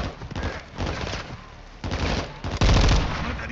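Automatic and rifle gunfire crackles in a Modern Warfare 2 campaign firefight, dense bursts layered under shouted voices, with a loud close volley near the end.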